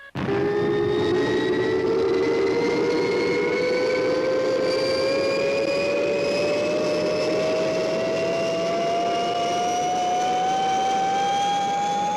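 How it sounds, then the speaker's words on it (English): A spaceship engine roars at liftoff, a loud sustained whine that climbs steadily in pitch over its full length, with no voices. "Stand by for liftoff."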